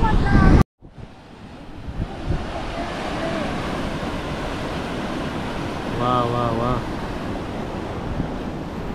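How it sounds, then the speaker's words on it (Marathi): Sea waves roll at Mandvi beach in Ratnagiri in the rain as a steady broad roar mixed with wind buffeting on the microphone, and a voice briefly calls out over it. "समुद्र बघा पावसामध्ये."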